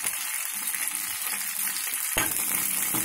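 Mustard seeds, cumin and curry leaves crackle and sizzle in hot oil as a tempering for chutney, a steady bright frying hiss that swells louder near the end, heard close with no talking.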